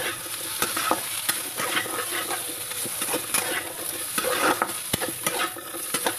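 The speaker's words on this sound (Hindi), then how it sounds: "इसे भी गोल्डन ब्राउन होने तक हम फ्राई करेंगे।" Steady sizzling of potatoes frying in a pan, with intermittent scraping clicks as they are stirred around; close and continuous, no voices.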